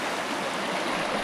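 River water rushing steadily at a campground on the Red River in New Mexico, a dense close broadband wash with no pauses and no voices.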